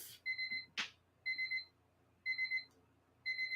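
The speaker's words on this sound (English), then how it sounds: "if you hear that beeping sound, that signifies that time is up" A timer beeps in four short bursts of rapid high electronic tones separated by pauses, clear and alone, with one brief noisy click between the first two bursts.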